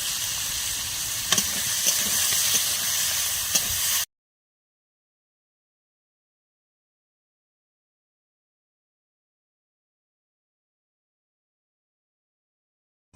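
Baliya fish fried desi style in a pan, giving a loud, steady sizzle for about four seconds before it cuts to silence.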